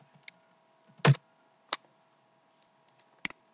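A few sparse keystrokes on a computer keyboard while a shop name is typed in, with one heavier thump near the start, all separate and quiet clicks against a faint steady hum.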